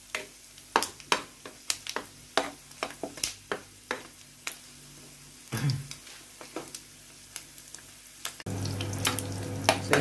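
Bihon noodles sizzle and scrape in a frying pan as they are tossed, with sharp repeated clanks and stirring strokes, then a louder steady frying hiss at the end.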